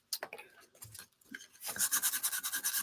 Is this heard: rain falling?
no